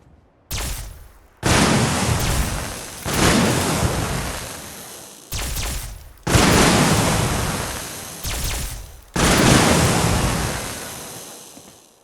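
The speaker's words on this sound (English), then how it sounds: "The Protégé shoots a firework-like projectile which separates to many parts in mid-air, only to rush back to the ground with a devastating energy explosions" Energy explosions from the Protégé weapon in modded Fallout 4, a series of loud, broad roaring blasts arriving in bursts, each one sudden and then slowly decaying, with brief gaps of quiet between them.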